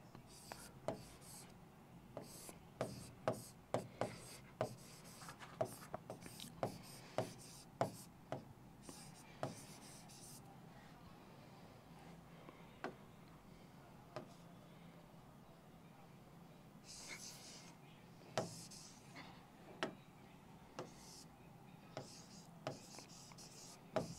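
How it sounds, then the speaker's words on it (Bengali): Pen scratching on paper during a written number-system lesson, a steady series of short taps and strokes, close and quiet, with faint murmuring in places. "আমি আগে লিখি, দেন লিখে আমি বোঝাচ্ছি"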